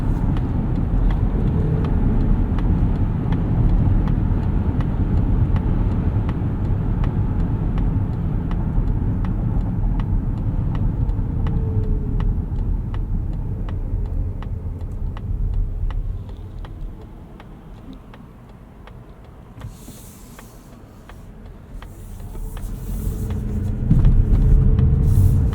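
A 2025 Mazda CX-50 Hybrid with a 2.5-liter engine driving, steady road and engine rumble heard from inside, dipping quieter for a few seconds before swelling again, with faint ticking.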